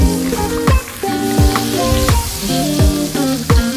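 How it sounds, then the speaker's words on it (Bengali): Green chillies and chopped onion fry for a prawn bhuna, giving a close, loud sizzle broken by regular sharp knocks and scrapes of a spoon stirring against the pan, with no voices. "তো কাঁচামরিচ এবং পেঁয়াজ কুচিটা দেওয়ার পরে এটাকে ভালো করে নাড়তে হবে।"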